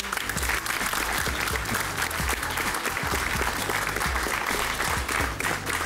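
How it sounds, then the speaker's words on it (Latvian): A large crowd applauds the Omiņi team at a competition final, producing a dense, loud, continuous wash of clapping that holds evenly throughout with faint crowd murmur beneath. "Vēlreiz aplausi Omiņiem."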